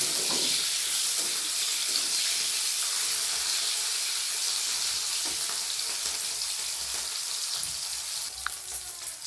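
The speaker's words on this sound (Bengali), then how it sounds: "কিছু বড় বড় পিস, এগুলো আমি ভেজে নেব ওই তেলের মধ্যে।" Soybean chunks fry in hot oil, giving a loud, continuous hissing sizzle close by that stays even throughout, with a few small pops near the end.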